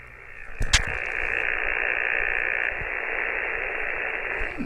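Amateur radio receiver noise on the 6-meter band, heard through a Flex Maestro with its noise blanker switched on: a steady hissing static bed, a brief sharp crackle near the start, otherwise even and continuous, with no talk.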